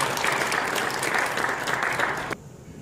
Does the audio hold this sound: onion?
no